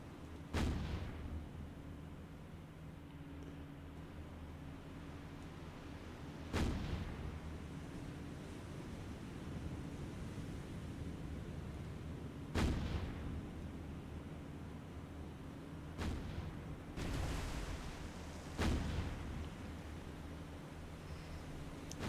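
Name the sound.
warship guns firing in War on the Sea video game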